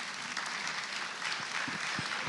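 Steady audience applause fills a hall, a dense wash of many hands clapping at moderate distance, with a few faint louder claps standing out.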